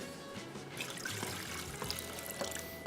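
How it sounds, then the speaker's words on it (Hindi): Water being poured into vinegar for a Turkish pickle brine, a close, continuous splashing trickle of liquid lasting a few seconds with no talk. "और इसके बाद इतना ही इसमें पानी शामिल कर देंगे।"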